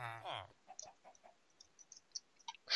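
Chickens in a Minecraft game cluck in a few short, quiet, scattered calls after a burst of talk at the start, with a louder sound at the very end.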